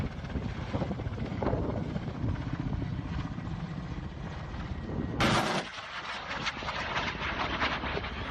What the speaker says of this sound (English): As you can hear, the missile was fired, and the helicopter kept on flying.